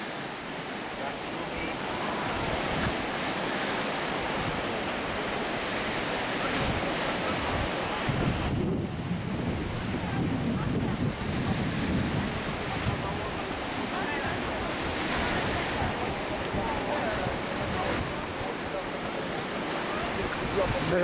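Sea waves wash against the Gdynia pier under a steady hiss of wind buffeting the microphone, forming a continuous, fairly soft roar of surf that swells briefly midway.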